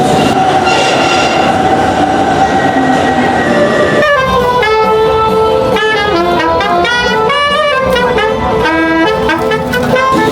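A train rumbles loudly through Hamburg railway station, wheels clacking, then a sustained horn or whistle-like tone sounds with layered pitches.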